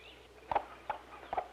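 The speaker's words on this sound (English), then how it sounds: "The clucking of this flock is not the same as the excited clucking of this mother hen, as she calls her chicks." A few soft, separate clucks from a flock of chickens, three short calls spaced about half a second apart over a quiet background.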